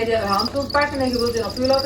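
Crickets kept indoors as pets or live feed chirp steadily and close by, a dense, continuous trilling with no pauses.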